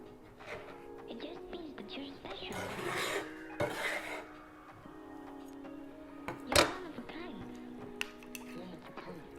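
Ginger and green onions being mixed in olive oil in a small sauce dish, with intermittent close scraping and clinks of a utensil against the dish and some speech.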